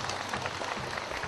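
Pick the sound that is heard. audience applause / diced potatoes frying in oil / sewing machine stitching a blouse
audience applause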